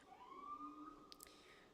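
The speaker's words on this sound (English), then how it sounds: "Damn ambulance." Faint ambulance siren passing outside, a thin wailing tone sweeping across about a second and a half, distant and alone with a couple of soft clicks near the end.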